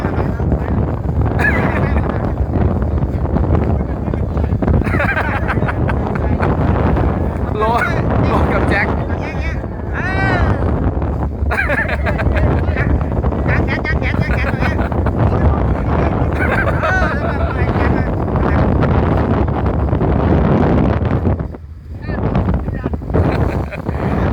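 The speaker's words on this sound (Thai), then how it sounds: "ลมในทะเลแรงมากนะครับ" Loud, constant sea wind roaring and buffeting a microphone outdoors on a boat off Phuket, with brief dips, and a voice talking faintly beneath it.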